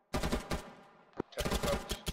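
Arma 3 gunfire: two heavy broadband bursts, a sharp single crack, then a long sustained volley of rapid shots, loud and close with no talking.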